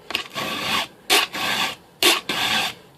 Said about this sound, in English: That's basically how you sharpen chainsaws.